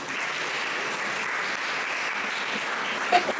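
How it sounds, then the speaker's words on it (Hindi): An audience at a talk on health and Sanatan Dharma applauds with continuous, even clapping, moderately loud and without talk over it. "बहुत बढ़िया, तालियां।"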